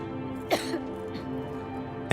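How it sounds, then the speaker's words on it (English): A woman's faint coughing from the video game Silent Hill 2, a few short throaty coughs and throat-clearing sounds set over a low sustained tone, with a louder burst at the end. "As they walk away, Maria coughs faintly"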